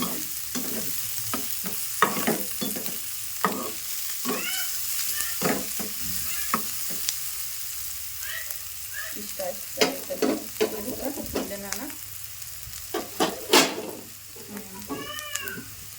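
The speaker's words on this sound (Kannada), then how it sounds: "ಮೆಣಸಿನ್ಕಾಯಿ ಉಳ್ಳಾಗಡ್ಡಿ ಸ್ವಲ್ಪ ಜಾಸ್ತಿ ಅಂದರೆ ಸ್ವಲ್ಪ ಫ್ರೈ ಮಾಡ್ಕೊಂಡು" Green chillies and onion fry in a pan for aloo paratha filling, a steady sizzle broken by scraping stirs. Several cat-like meows cut through it now and then.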